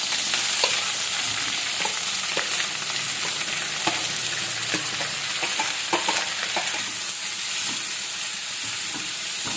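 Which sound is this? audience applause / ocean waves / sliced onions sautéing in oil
sliced onions sautéing in oil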